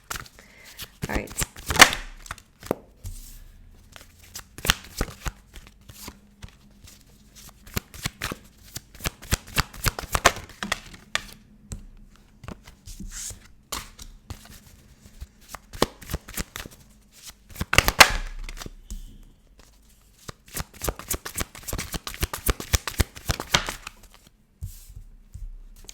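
A deck of tarot cards is shuffled again and again, giving quick riffling bursts and soft taps separated by short pauses, close and crisp.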